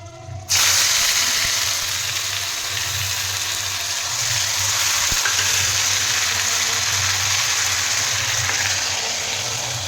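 Onion gravy hits hot oil in a pan already tempered with cumin, dried red chillies and bay leaves, bursting into a loud, steady hiss that holds for the rest of the clip, with no voices over it.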